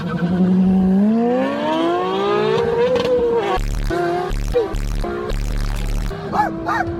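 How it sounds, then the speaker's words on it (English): A Lamborghini street-race car revs hard, its engine note climbing steadily in pitch for several seconds, then settling into a loud, rough idle with short throttle blips and a brief squeal near the end. "He street races damn near anyone he can find in his Ronaldo car."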